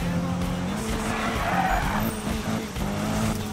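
Continuous squealing tires and a revving race-car engine as a car drifts in the Need for Speed 2015 racing game, loud and sustained throughout with a faint voice underneath.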